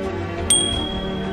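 A single bright bell ding, the chime of a subscribe notification bell button, rings once and rings out with a lingering tone over a low steady background hum.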